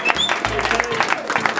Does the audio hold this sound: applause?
yes